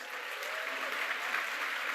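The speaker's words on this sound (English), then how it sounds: "Let's give these students a round of applause" Audience applause for high-GPA students at a University of Alabama Black Scholars Day event, a dense, steady clapping that fills the hall at even loudness throughout.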